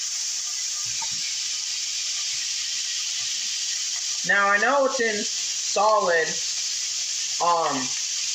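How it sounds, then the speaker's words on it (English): Steady, loud sizzling of bacon frying in a pan fills the whole clip, while a person speaks briefly over it in the second half. "we can now put in our bacon. And make sure, just a quick test, let's hear it sizzle."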